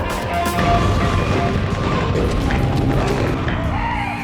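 Giant monsters smash buildings in the video game Rampage Total Destruction: a dense, continuous roar of crashing debris and booming impacts, loud and sustained.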